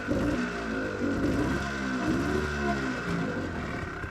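The engine of a 1985 Honda Odyssey FL350R off-road buggy drones steadily at full throttle, a loud, continuous revving hum that holds close without any talk.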